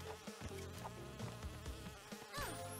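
A bee enemy buzzes in Crash Bandicoot N'Sane Trilogy, a faint insect-like drone running under busy game music and sound effects throughout.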